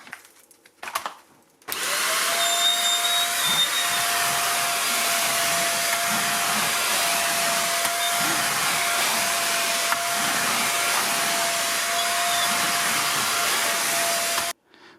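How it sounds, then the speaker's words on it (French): A Silvercrest SHZK 600 A2 600 W corded vacuum cleaner runs on soft carpet, starting up after a brief pause and holding a loud, steady roar with a high whine for over twelve seconds before cutting off. "Là c'est un tapis souple, c'est un petit peu compliqué parce que la puissance d'aspiration est quand même très importante."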